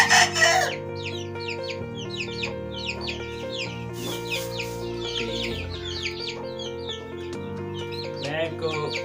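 A Java rooster, a five-time champion fowl, crows and clucks in a series of short, repeated calls, fairly close and clear, with other bird chirps scattered over a steady background hum.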